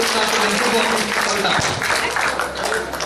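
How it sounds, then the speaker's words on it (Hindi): Loud, dense applause from a large audience at a Hindi kavi sammelan and mushaira poetry recital in Tilhar, sustained and close, with a voice speaking faintly over it. "एक बार जोरदार तालियों के साथ"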